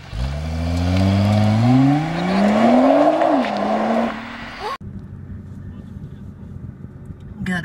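A Nissan GTR revs hard and accelerates away with a rising, close engine note that cuts off suddenly, leaving a quieter rumble afterward.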